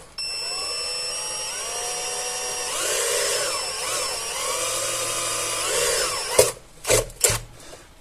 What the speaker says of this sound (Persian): بریم اینا رو جایی که علامت زدیم و یه سولاخی بزنیم